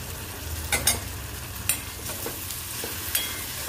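Masala with kokum sautés in a pan over a soft steady sizzle, punctuated by a few sharp scraping stirs of a spoon against the pan, close and fairly quiet, with no voices.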